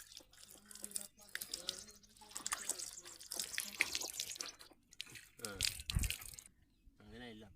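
Water is poured out for washing in a village, splashing in uneven bursts and trickles, with people talking and calling out over it.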